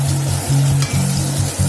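Dry coconut frying in oil with a steady sizzle, punctuated by a few scraping stirs of a spatula in the pan, close and moderately loud, no voices.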